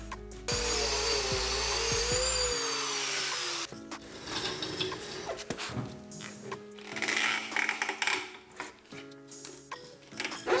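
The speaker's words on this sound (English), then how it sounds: "That's not gonna do it, we need a grinder." Power grinder cutting through handbrake cables under a Fox Body car during a twin-turbo LS build, a loud high whining grind for a few seconds, then scraping, clanking metal and workshop clatter.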